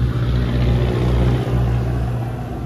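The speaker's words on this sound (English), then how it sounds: "it's almost impossible to film here because of the truck noise" Heavy truck traffic on a road near a cliffside route, a loud, continuous low engine rumble that dominates the whole stretch with no break.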